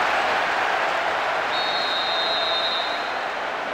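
Stadium crowd noise from the football video game Pro Evolution Soccer 6, a steady, dense roar of many voices holding at an even level throughout, with a thin whistle-like tone rising briefly above it midway.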